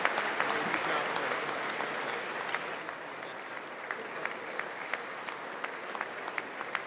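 An audience at the State of the Union address claps steadily in a dense, sustained wash of applause heard from a distance, with a voice murmuring faintly underneath.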